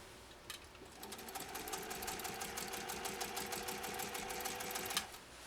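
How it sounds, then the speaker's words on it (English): A 1930 Singer 101-4 electric sewing machine stitches steadily for several seconds, its fast, even mechanical clatter close and continuous, with no voices over it. "And we'll finish off this line of stitches."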